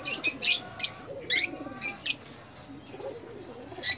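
A pet pigeon back with its owner gives a run of short, bright calls, about six quick bursts in the first two seconds, then goes quieter with soft low murmuring. The calls are close and clear, with no talking.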